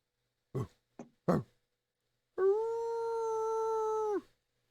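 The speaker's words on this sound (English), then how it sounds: "you hear some sort of bloodhound type dog howl" A bloodhound-type dog gives three short yelps, then one long, sustained, tonal howl that holds steady for about two seconds before dropping off, clear and alone against silence.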